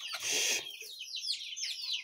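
Pet budgerigars (Australian parakeets) give quick, bright chirps and warbling calls in short repeated bursts, close by, after a brief noisy rustle at the start.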